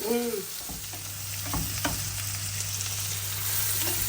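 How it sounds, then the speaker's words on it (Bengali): Shrimp fry in a pan with a steady close sizzle, occasional spatula stirs and scrapes, and a low background hum throughout. "এই যে আমাদের জামাইদের জন্য চিংড়ি ভাজি হচ্ছে"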